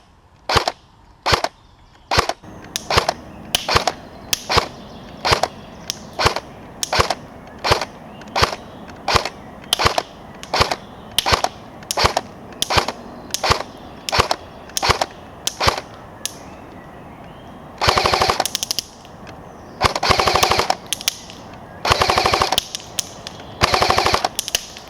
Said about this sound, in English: I managed to get in a shooting test with this gun